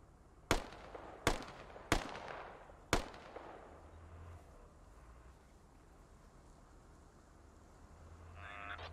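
Four sharp blasts from a frag grenade and nearby fire in a video game, evenly spaced over about three seconds, loud and close, followed by a quiet low rumble.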